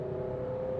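Honda Amaze ZX manual car engine revving in third gear, a steady droning hum with a sustained tonal note, heard from inside the cabin at moderate level with no talking.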